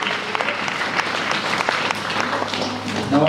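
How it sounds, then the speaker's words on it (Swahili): A church congregation claps together for Christ, a dense, fairly close round of applause lasting a few seconds, with a voice breaking in briefly at the end. "Chapia Kristo makofi."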